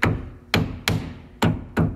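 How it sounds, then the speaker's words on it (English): Five sharp metallic hammer taps on a car battery terminal clamp during a battery change, evenly spaced about half a second apart, close and fairly loud, each ringing briefly before the next. "I have a proper hammer here, however. Tap it, tap, tap."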